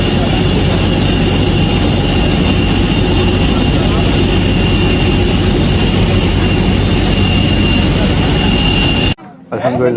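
Inside a fully booked passenger airplane cabin, a loud steady jet engine roar and cabin air hiss fill the space continuously, a voice speaking underneath, before the noise drops away abruptly near the end.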